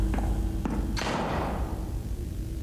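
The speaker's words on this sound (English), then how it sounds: "I just heard gunfire." Three sharp muffled handgun shots in close succession in the horror game Mask of Lurks Within Walls, the last one loudest with a short rumbling tail over a low hum.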